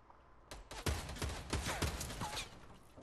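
Fortnite gunfire in a quick burst of about half a dozen sharp, loud shots over roughly two seconds, close and clear, with no talk over them.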